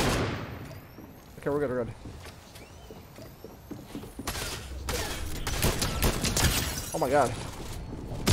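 Rapid bursts of auto shotgun fire in a Season 3 shooter video game, loud broadband blasts spread through the clip between excited spoken exclamations from the player.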